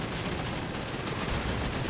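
Sustained rapid gunfire from a video game vehicle chase, a dense continuous volley of shots filling the whole stretch with no pauses.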